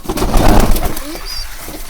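Pigeons waiting for food give short, low coos up close amid busy rustling and flapping. A brief thin chirp sounds near the end.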